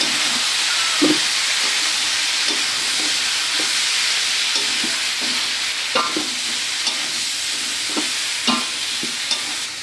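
Lida river fish curry with raw tomato and spices sizzles in a pan while a spoon stirs it, a steady frying hiss broken by repeated scraping strokes, close up with no talking.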